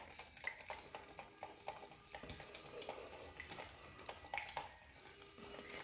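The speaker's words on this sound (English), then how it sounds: "so I'm just going to hand whisk this" A hand whisk working through a partly set homemade breastfeeding balm mixture in a bowl, a quiet run of quick clicking and scraping strokes at close range.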